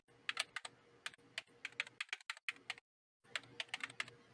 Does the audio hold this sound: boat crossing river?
no